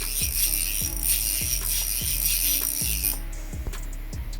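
A Snap-on flank drive plus ratchet clicks steadily as its pawl skips over the gear teeth, producing evenly spaced close mechanical ticks in a regular rhythm with no talking.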